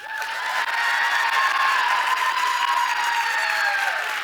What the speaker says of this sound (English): I would love just one more applause if you guys would help me welcome our first leader